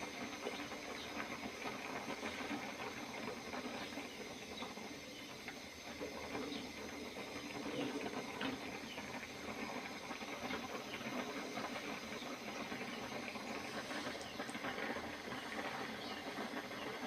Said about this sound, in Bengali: তো এখানে বুট সিদ্ধ দিলাম।